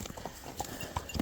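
A horse's hooves clip-clop on a training ride through Whitney Forest, a quiet, close rhythm of separate soft thuds, about five or six distinct strikes in just over a second.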